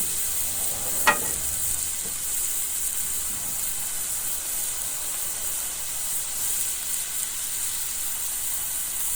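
Burgers sizzling on a griddle outdoors in a yard, a loud, steady, close frying hiss with one brief scrape early on, no talking.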